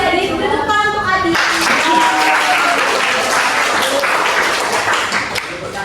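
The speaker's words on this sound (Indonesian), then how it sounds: "Beri tepuk tangan untuk Adi." Classroom of students clapping for a classmate, starting with a voice speaking over the room before rising into a full, continuous round of applause that fades slightly toward the end.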